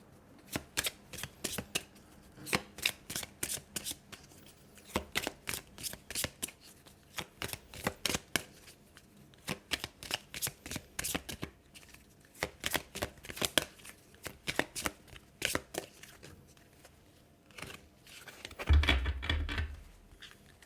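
Tarot cards being shuffled by hand, soft close riffles and flicks coming in repeated bursts with short gaps, fairly quiet, ending in a louder rustle of handling.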